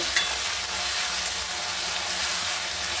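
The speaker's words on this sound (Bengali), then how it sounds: "মশলাটাকে একটু নেড়ে চেড়ে নেব" Spice paste with turmeric frying in a pan for chicken curry, a loud, dense, continuous sizzle and hiss close by with faint stirring underneath, no speech.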